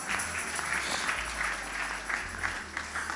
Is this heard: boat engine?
no